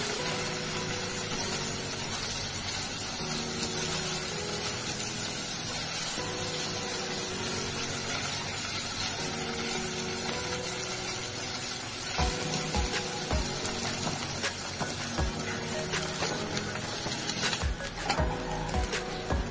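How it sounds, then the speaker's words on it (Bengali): Pieces of paneer fry in hot oil with a steady sizzle and spitting crackle that keeps going at a moderate level, and there is no talking. "এবার পনিরগুলো 2 মিনিট ফ্রাই করে নিতে হবে।"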